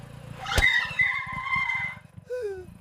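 A lone motorbike skids to a halt on a road, with a sharp tire squeal rising from a low engine putter and sustaining for over a second before the engine idles and a short chirp trails off, close and fairly quiet.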